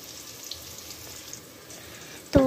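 Whole garam masala spices go into a hot pan for Chittagong-style mejbani beef curry: a faint, steady low sizzle builds to a sudden loud hiss as the spices hit the oil at the end.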